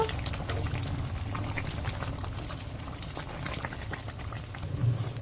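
Chicken curry gravy coming to a boil in a pan, a continuous soft bubbling and popping texture at close range, steady throughout with no talk.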